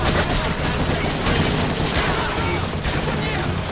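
Dense, rapid gunfire and explosive bursts from the Call of Duty: Modern Warfare 3 video game roar continuously at high volume, a chaotic battle soundscape with no pauses.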